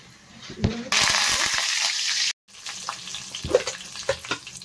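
Mustard seeds, crushed garlic and green chillies go into hot oil for a fenugreek-leaf chutney, bursting into a loud, steady sizzle that cuts off abruptly, followed by softer crackles and a few stirring taps.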